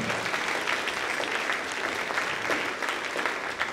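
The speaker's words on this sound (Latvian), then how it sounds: "Aplaus diriģentam!" An audience applauds the choir conductor at a concert, with dense, steady clapping from a full hall that carries on at an even level throughout.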